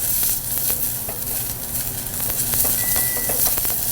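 Carrots and other vegetables sizzle steadily in a hot pan, a loud, even frying hiss with occasional light pops and clinks as they are stirred.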